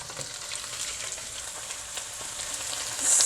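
Shallots hitting hot oil in a pan with onion and dried chillies, a steady close sizzle and crackle for a few seconds that swells louder right at the end.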